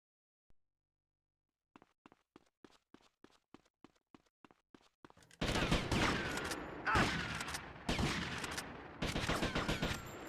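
Gunfire in GTA: Vice City starts as a run of quiet, evenly spaced clicks or steps, then breaks into loud, dense bursts of shots and chaotic action that continue to the end.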